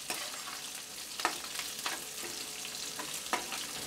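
Chopped capsicum sizzles steadily in a hot pan for chicken chilli, a constant bright hiss broken by a few brief stirring scrapes, close and fairly soft with no talking.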